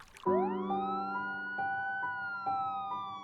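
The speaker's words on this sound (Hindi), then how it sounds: "पुलिस की गाड़ियों के सायरन की तेज आवाज हवा में गूंज उठी।" A police siren starts up loudly nearby, its rising wail settling into a sustained tone with rhythmic pulses, heard alone.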